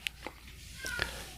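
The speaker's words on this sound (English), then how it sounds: "He meowing like crazy." A cat gives a couple of short, faint meows over low background noise, with a brief higher cry near the end.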